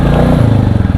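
Royal Enfield Bullet 350 or Classic 350 motorcycle on a ride, its loud close engine thumping in a quick, rough rhythm with some rattling clatter over one second.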